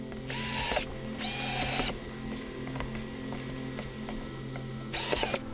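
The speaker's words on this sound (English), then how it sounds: "This is the special step drill bit that Henry uses for drilling holes in buckets to make Dutch buckets for hydroponics." A step drill bit bores holes in a plastic box used for growing food plants: three loud, high-pitched whining bursts of drilling, each a second or less, with quieter handling clatter and a steady low hum between them.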